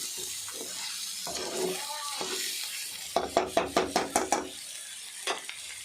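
Chicken frying in a pan: a steady background sizzle runs under a quick run of rhythmic scraping stirs, with a few brief, faint vocal sounds early on and no clear talk.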